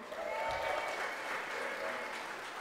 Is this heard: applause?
yes